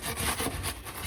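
Short, close rasping saw strokes cutting through PVC pipe during a water heater replacement, a rough back-and-forth rhythm with no speech.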